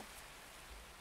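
Steady rain falling in the video game Escape from Tarkov, a soft continuous hiss of drops on surfaces with a low rumble underneath, quiet and even throughout with no voices.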